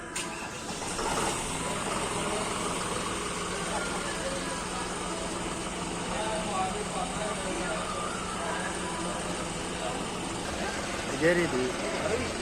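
A John Deere tractor engine idles while being unloaded from a trailer, a steady, even drone that continues throughout, with faint voices beneath it.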